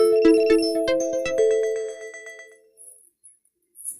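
A bright electronic chime rings out in a quick series of ding tones, then fades to near silence with faint high hiss.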